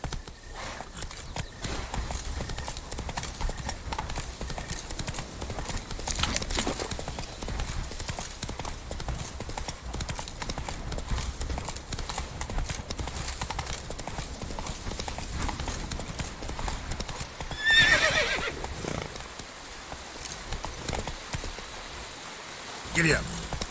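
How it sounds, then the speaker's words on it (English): Horse hooves clip-clopping steadily in The Witcher 3: Wild Hunt, Blood and Wine, a continuous even rhythm over a running-water ambience with a brief louder burst near the end. "Whoa there, Roach."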